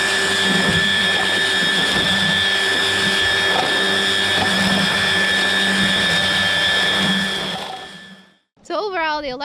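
Electric weed eater string trimmer running steadily with a constant high whine and broad motor hum, stopping abruptly near the end before a brief voice is heard.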